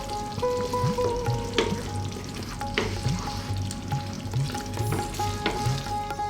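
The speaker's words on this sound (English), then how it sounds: "we're gonna let this go now, just for another couple of minutes, on this low heat, stirring all the time" Creamy Indian restaurant-style chicken curry bubbling on low heat while being stirred constantly, a close, even sizzle with repeated soft spoon scrapes and clinks, no voices.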